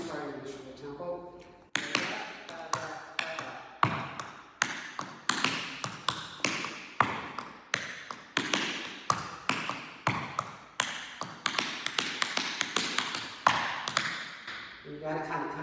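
Tap dance steps of flaps, a scuff and a slam, shown to a Shirley Temple routine: crisp close taps in quick rhythmic clusters with short pauses, hard-soled shoes striking the floor.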